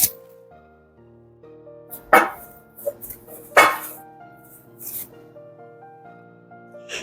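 Ceramic serving pots clink and knock against each other as they are unboxed, with a few sharp close clatters over faint background music and a quiet voice.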